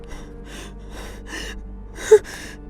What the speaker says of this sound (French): Chaque souffle, chaque respiration, chaque pleur, chaque cri a été reproduit en studio.